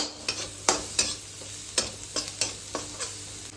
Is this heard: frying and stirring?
yes